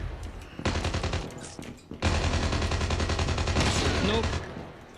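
Rapid automatic gunfire bursts in the shooter game Call of Duty Mobile, two dense volleys of loud shots, the second longer and sustained, with faint game sounds between.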